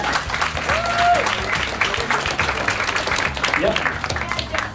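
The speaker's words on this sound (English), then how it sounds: "Round of applause." A furry convention audience at Furry Down Under 2012 breaks into dense, loud applause with scattered cheers and voices mixed in, sustained throughout.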